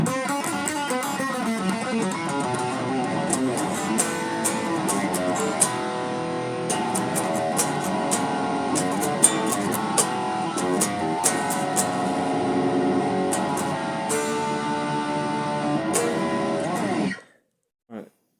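Electric guitar playing a chorus with power chords and a lick, a steady distorted riff that runs continuously and close, then cuts off abruptly near the end.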